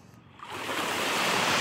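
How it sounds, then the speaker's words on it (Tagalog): Large ocean waves surge onto a shoreline in Samar, a roaring broadband wash that builds from quiet to a steady loud rush and holds. "Napakalalaking alon dito."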